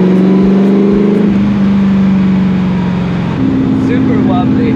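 A rare Ford GT40 race car idles at Clark Speedway during a shakedown, its engine droning low and steady with a slight pitch shift partway through, loud and close throughout.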